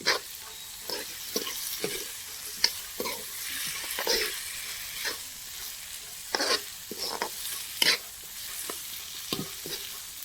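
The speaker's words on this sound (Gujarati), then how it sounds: "તો ચાલો શાક વઘારી" A vegetable curry is tempered in a pan with a steady oil sizzle, cut by sharp, irregular scrapes and clinks of a spoon stirring, close and clear.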